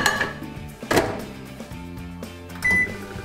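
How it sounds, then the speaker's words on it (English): A microwave oven heating a potato topped with cheese and smoked bacon at maximum power: a door clunk, button beeps and a short tone, then a steady low hum. "put the whole thing in the microwave for about 6 minutes at maximum power"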